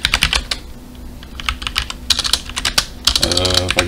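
Quick bursts of typing on a computer keyboard at a command prompt, close and clear, with someone talking intermittently over the clatter.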